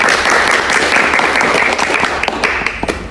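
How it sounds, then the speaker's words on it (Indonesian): Loud, close applause for a school data-analysis competition team, many hands clapping steadily before it thins out into a few scattered claps near the end. "Tepuk tangan untuk mereka."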